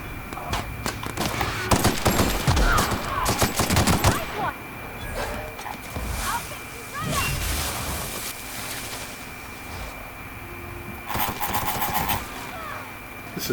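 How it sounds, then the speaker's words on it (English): Assault rifle gunfire in a video game, repeated bursts of rapid shots near and loud, clustered in the first few seconds and recurring later, mixed with game ambience and effects. "This assault rifle is a definite improvement on the fighting option that I had earlier."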